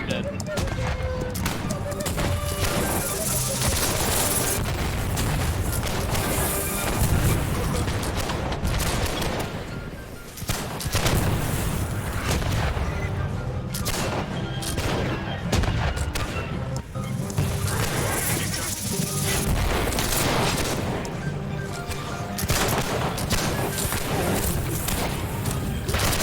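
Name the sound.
gunfire and explosions in the video game Holdfast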